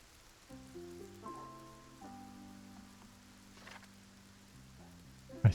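Rain in the video game Masterplan Tycoon: a soft, steady patter under simple tonal game music, ending in a brief louder thump.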